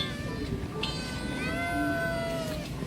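Homeless kittens meow near the microphone, several high, thin cries overlapping and stretching out over a few seconds against a noisy outdoor background.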